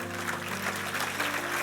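A church congregation applauding during a sermon, a brief wash of clapping from many hands with sustained musical tones humming underneath, fairly even in loudness throughout.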